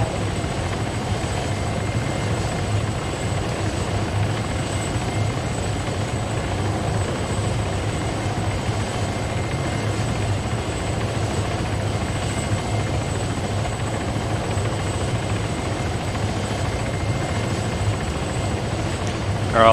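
A helicopter's engine and rotor hold a loud, constant drone close by, an unbroken mechanical roar that stays level for the whole stretch, with no speech over it.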